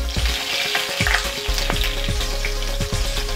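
Steady crackling sizzle of green chilies and cumin frying in hot oil, with occasional stirring clinks and scrapes, close and continuous throughout.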